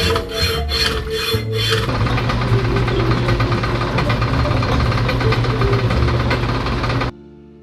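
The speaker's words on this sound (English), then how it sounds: "So I'm going to go back to the hacksaw the tried and true way." A hacksaw cutting through a steel bolt, with a continuous harsh rasping grind of fast strokes close up that stops abruptly at the end, and no voices.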